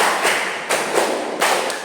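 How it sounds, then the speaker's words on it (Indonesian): A group claps together in time on a spoken count, giving three sharp, loud collective claps spaced about two-thirds of a second apart, with no voices over them. "Tepuk satu, tepuk dua, tepuk tiga, tepuk empat, tepuk lima."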